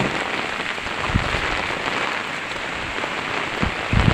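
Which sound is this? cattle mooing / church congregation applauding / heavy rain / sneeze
heavy rain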